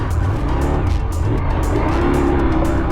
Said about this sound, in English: Riding these big adventure motorcycles on motocross tracks is, well, unique.